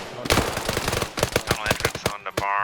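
Rapid machine-gun fire rattles in a tactical shooter game, a dense burst of close shots with a few spaced single cracks toward the end.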